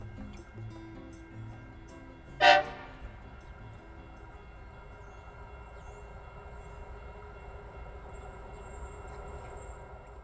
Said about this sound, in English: This Adelaide-bound Bowman's rail train is carrying mineral sands from the mining town of Broken Hill.